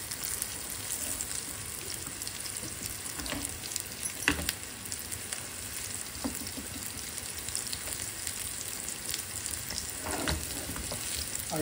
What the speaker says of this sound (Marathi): गरम तेलामध्ये आता हे आपण फ्राय करणार आहोत।